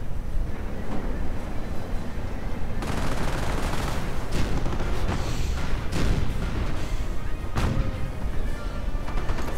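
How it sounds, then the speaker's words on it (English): Artillery fire in a World War II strategy game, heard as a dense, loud, continuous barrage of booms and crashes with repeated heavy impacts, under a commentator's voice. "he has fired the artillery"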